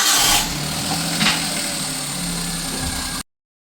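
A motorcycle engine runs steadily at a close idle, a constant low hum with a brief louder rise at the start before cutting off abruptly.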